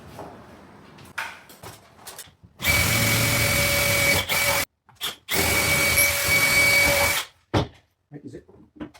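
A power drill drives bolts into a garage wall to mount overhead shelving, two loud close bursts of whirring about two seconds each, separated by a short gap, with scattered knocks and handling noises before and after.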